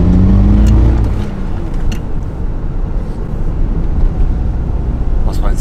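Supercharged BMW G Power engine fitted with an 80 pulley, revved briefly: a loud, close roar that surges at the start, then a sustained rumbling drone with some background noise.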